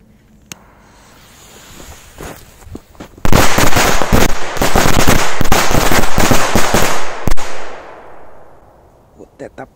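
A bundle of Korsar 1 firecrackers goes off in a loud, rapid string of sharp bangs lasting several seconds, preceded by a few isolated cracks and trailing off into scattered pops outdoors.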